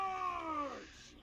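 A single drawn-out cat meow in the video game From The Depths, falling in pitch and fading at the end, fairly quiet and alone.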